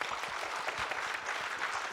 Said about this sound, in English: let's have a round of applause for them for their great work first